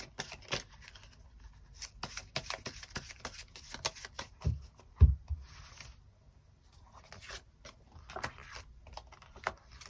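Tarot cards being shuffled, a rapid run of soft papery riffles and taps with a louder thump about halfway through, close and fairly quiet, with no talking.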